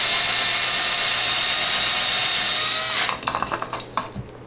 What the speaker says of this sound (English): Start out by drilling the center of the post out